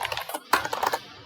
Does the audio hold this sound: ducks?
no